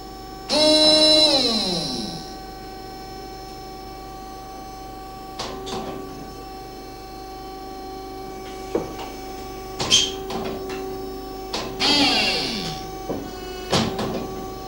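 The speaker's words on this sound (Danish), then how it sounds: "Skal vi lade maskinen køre med fuld hastighed nu?" A 1962 DISAMATIC foundry moulding machine runs at full speed, sending out loud mechanical cycles with whooshing hydraulic or pneumatic sweeps, clanks and thuds over a constant hum.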